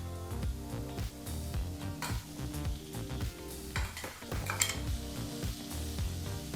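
Curry leaf paste hits a hot pan for a Kannada-style curry leaf gojju, giving a steady frying sizzle under clinks of a metal spoon and vessel, with stirring scrapes throughout.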